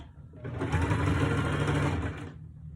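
A sewing machine runs a straight-stitch seam to close the opening on a large fabric pouch, a fast even whirring chatter that starts, holds for about two seconds and stops, close and alone.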